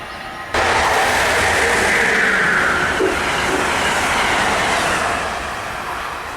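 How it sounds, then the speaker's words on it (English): A New Jersey Transit commuter train on the North Jersey Coast Line rumbles past close by with a steady broadband roar and faint rail clatter, easing off slightly toward the end. "there's another classic Vinny Coleman Jersey train, the 4615"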